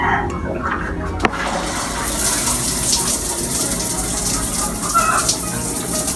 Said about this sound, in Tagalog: So that's the shower.